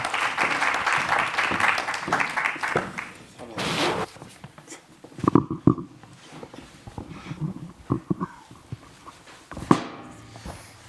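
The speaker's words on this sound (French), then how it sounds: "Sous vos applaudissements." Applause from an audience fills the opening seconds, a dense wash of clapping that fades out, followed by scattered knocks and movement.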